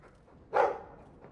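A Mabari war dog in the fantasy game Dragon Age II gives one short, fairly loud bark or huff, alone against a quiet background.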